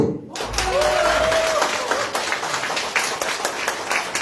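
Party members at a local meeting in Jeju applaud in a steady, moderately loud burst of clapping, with scattered voices mixed in.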